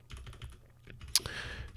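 Soft clicking of computer keys while coding R in Neovim, a quick irregular patter of taps with one sharper key strike near the end, close and quiet.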